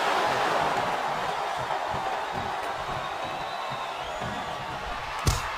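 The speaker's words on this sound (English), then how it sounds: "Sounds like this crowd's got something on their minds" Arena crowd noise in the WWE SmackDown vs Raw 2007 video game during a Candice Michelle vs Trish Stratus match, a steady broad roar of massed voices with one sharp thump near the end.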